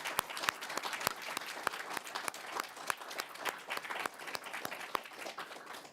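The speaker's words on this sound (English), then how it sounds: "I'd love to hear another round of applause for Rashina" A literary reading audience applauds a reader with a quiet, steady patter of many hands clapping, heard from some distance in a hall, without any voices over it.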